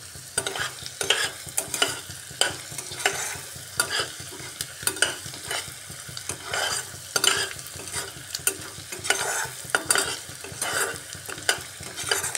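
Onions frying in a little oil until browned, for a lightly spiced chicken curry, a steady sizzle with a regular rhythm of spatula scrapes and clacks against the pan throughout, close and without talk.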